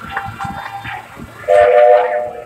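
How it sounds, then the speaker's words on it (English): A steam train's whistle blows twice from a moving train at Magic Kingdom, a sustained shrill tone standing out over rumbling rail noise and faint background chatter. "Those two whistles indicate we are clear for forward motion, and as Tyler said, we are all aboard."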